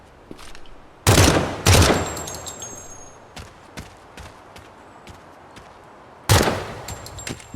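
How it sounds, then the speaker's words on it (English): A gun fires in short bursts in Project Silverfish, with two quick loud bursts close together, a quieter stretch of faint clicks and footsteps, then another sharp burst near the end. "The burst fire of this gun makes it, like, very nice."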